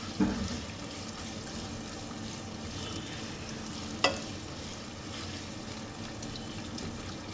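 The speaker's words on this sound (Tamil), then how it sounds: "இது கொஞ்சம் நல்லா வதங்க விடுறோம்" Two large chopped onions sauté in a pan for white chicken curry, giving a steady, soft sizzle throughout with a couple of sharp utensil clinks near the start and middle.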